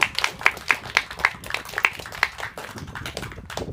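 A small audience applauds at a student storytelling showcase, with scattered, uneven claps at close range fading toward the end.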